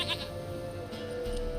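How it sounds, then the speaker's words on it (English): A goat in The Witcher 3 video game bleats in a short, wavering cry heard up close, with no talking over it. "Goat of mine! Dearest, sweetest goat!"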